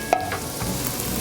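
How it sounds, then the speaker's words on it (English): Carnarolli rice stirred with shallots and oil in a pan, a close, continuous scraping and frying sizzle with a brief clack at the start. "At this stage, you do want to keep stirring"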